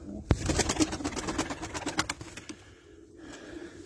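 Fancy pigeons, including Arab breeds, coo and flutter during a release, with a rapid run of soft wing claps and coos close by that fades into quieter background after a few seconds.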